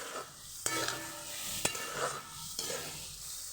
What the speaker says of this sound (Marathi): आता हे चांगलं परतायला लागले, तेल सुटायला लागले